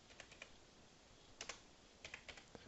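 Quiet keystrokes on a computer keyboard come in short clusters of soft clicks, typing a number into AutoCAD and pressing the enter key, with a faint steady room hiss between the bursts.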